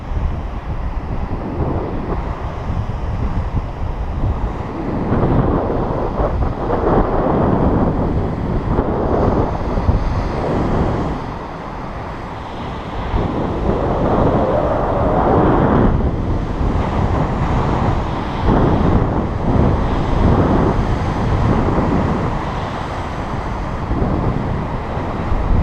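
Big ocean waves surge and crash on a cold, wet coastal hike near a cliff edge, with steady loud wind buffeting the microphone throughout and no talking.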